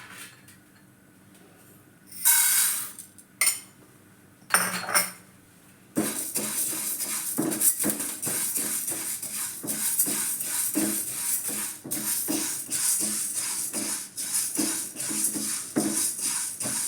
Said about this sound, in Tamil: இப்போ உளுத்தம்பருப்பு வறுத்துக்கலாம்.